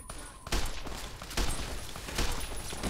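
Repeated gunshots from Fallout New Vegas land as three or four heavy, booming hits spaced about a second apart. They ring loud against a busy in-game background.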